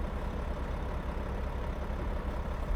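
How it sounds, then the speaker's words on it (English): Truck engine in the video game American Truck Simulator, a steady low diesel rumble idling evenly at moderate level throughout, with no talking over it. "the engine sound, just not getting used to that at all"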